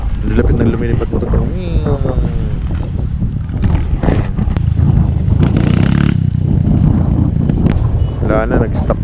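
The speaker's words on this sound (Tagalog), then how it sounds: "Lapit ng lumilipad motor." Motorcycles fly through the air on jumps nearby, their engines roaring steadily loud in open air with wind buffeting the microphone, while people talk over the din.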